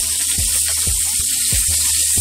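Chicken pieces sizzle in a hot pan while browning for chicken cacciatore, giving a steady close frying hiss with soft periodic thumps and spatters as the meat sears, no voice over it.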